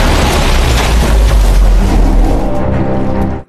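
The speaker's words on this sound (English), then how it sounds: "dodging the explosion with impossible agility" A directional explosive charge detonates in one loud, sustained roaring blast with heavy low rumble, lasting about three seconds before cutting off abruptly.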